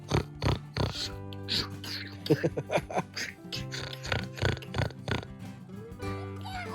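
A child snorts and grunts in rhythmic bursts, imitating a pig's oinking, mixed with playful vocal noises.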